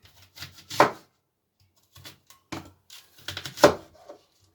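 Knife cutting an onion into three pieces on a board, a few sharp close chops and taps spread across a quiet stretch with no talking.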